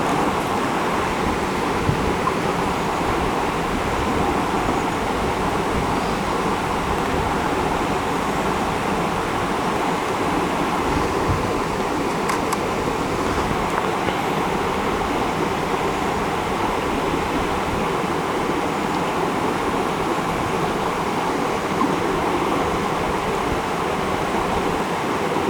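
A distant waterfall seen from a landscape photography spot roars in a steady, broadband rush of falling water that holds level and unbroken throughout, with no voices.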